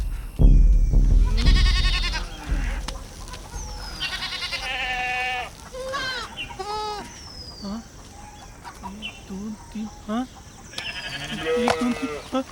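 Goat kid bleating in a village farmyard, several short wavering cries spread across the stretch, mixed with clucking chickens and people talking nearby.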